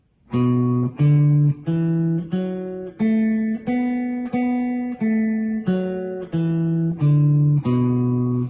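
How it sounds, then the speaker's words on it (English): A guitar plays a scale up and back down, each note picked twice in an even, steady rhythm, clear and close. "here's that scale up and down"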